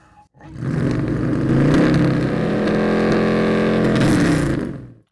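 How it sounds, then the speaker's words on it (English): Engine revving through a Flowmaster muffler, sounding like a small block Chevy: one loud, sustained, throaty rev held for several seconds before cutting off. "where you can find cool parts like this Flowmaster muffler. I mean, listen to this thing."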